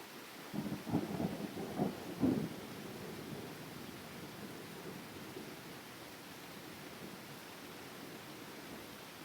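Heavy rain falls on a village, a steady, dense wash that lasts throughout. A low rumble of thunder swells near the start and then fades back into the rain.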